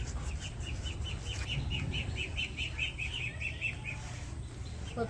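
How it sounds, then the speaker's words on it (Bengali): Ducks in a village give a quick run of repeated high chirping calls, fairly faint over a low background hum, lasting a few seconds. "হাসে কি সুন্দর করে ডাকতেছে, কির কির কির কির করে"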